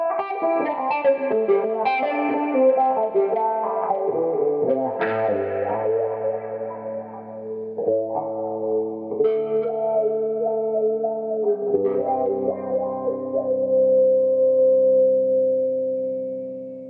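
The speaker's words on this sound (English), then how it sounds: "And then finally, we have the wah pedal." Electric guitar through a wah pedal, sweeping melodic lines and bends with a vocal, filtered character, moving into sustained ringing notes that hold near the end, loud and alone with no voices.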